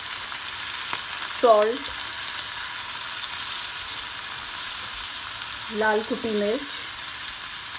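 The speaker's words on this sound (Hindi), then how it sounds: "ये सब चीज़ें डाल के हम चिकन को फ्राई कर लेंगे" Chicken frying with vinegar, soy sauce and spices, a steady close hiss of sizzling oil running throughout while someone speaks briefly over it twice.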